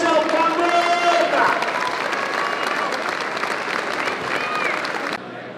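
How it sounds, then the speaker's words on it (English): A football stadium crowd at a Northampton Town home match applauds in a dense, sustained wash of clapping that carries on evenly before dropping off abruptly near the end. "Please give her a massive round of applause, Chantal Cameron!"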